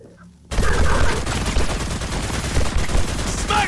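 Sustained smart rifle gunfire in a video game, a loud rapid stream of shots bursting in after a brief quiet moment and continuing without pause.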